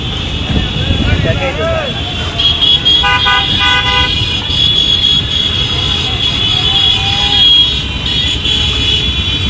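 A motorcycle rally rolls through a Dhaka street, with engines and traffic rumble under repeated horn toots and beeps, while people talk and shout nearby throughout.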